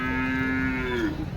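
A milk cow moos once at a cattle market, a long, loud, steady low call that bends downward at the end, over background crowd rumble.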